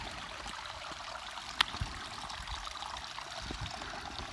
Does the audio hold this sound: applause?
no